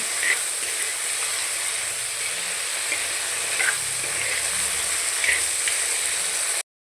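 Tomatoes sauté in a pan with turmeric powder, giving a steady hissing sizzle and a few stirring scrapes. It sounds close and moderately loud, then cuts off abruptly near the end.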